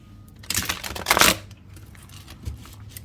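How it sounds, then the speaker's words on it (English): An oracle card deck being given a thorough shuffle, with two close bursts of papery riffling and flicking cards, then quieter handling as the cards settle. "we'll give it a really good shuffle"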